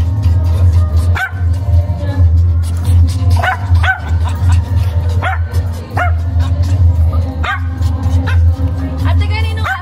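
A dog barks repeatedly in short sharp yaps, fairly close, over a steady low hum and background chatter at a child's birthday party.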